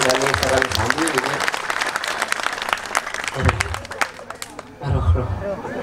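An audience at a live Balinese comedy duet performance applauds: a loud, dense wash of clapping with crowd chatter and voices talking over it, briefly dipping before swelling again near the end.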